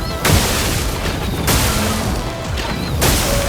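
Heavy explosions from combat in Clair Obscur: Expedition 33 boom and crash in loud, dense bursts near the start, midway and at the end, with continuous rumbling battle noise in between.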